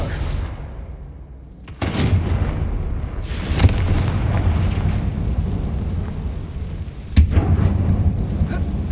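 Booming blasts of the Confringo fire spell in a mine in Hogwarts Legacy, with a sharp burst followed by a rumbling roar, then a second hit near the end over sustained game noise.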